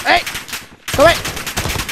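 Rapid gunfire in the Modern Warfare video game, two quick bursts of sharp shots separated by a brief pause, loud and close with voices mixed in.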